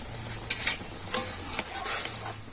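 Dough being stirred in a pan until stiff, for soft chomchom pitha: a faint hiss under several scraping strokes of a spoon against the pan, uneven and close, no talk.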